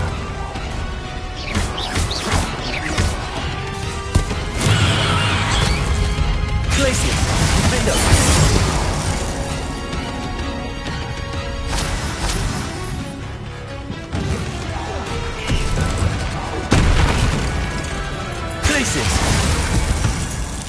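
Confringo spell explosions in Hogwarts Legacy, loud crashing bursts and booms recurring over roughly twenty seconds amid dense game noise and music, with a voice talking over parts of it.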